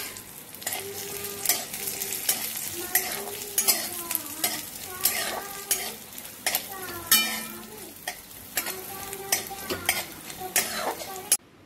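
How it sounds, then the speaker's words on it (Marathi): A spice is dry-roasted for Solapuri black masala in about half a spoon of oil over low heat. The gentle sizzle runs under steady stirring and scraping of a utensil against the pan, close and continuous. "त्याला पण थोडंसं एक अर्धा चमचा तेल टाकून ते भाजून घ्यायचे आहे कमी आचेवरच"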